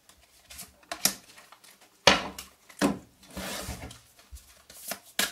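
Tarot cards are shuffled and handled on a table in short bursts of dry slides, flicks and taps separated by brief pauses, close and fairly soft.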